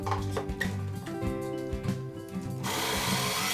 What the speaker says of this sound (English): So now we're just gonna drill our holes into the second board.